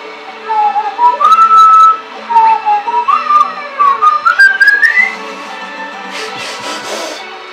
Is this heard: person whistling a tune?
yes